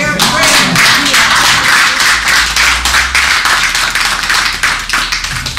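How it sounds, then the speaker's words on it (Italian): Dense, loud clapping from a group of people celebrating four guests at a 95th birthday gathering, sustained for several seconds with some voices mixed in. "direi un applauso per tutte queste quattro"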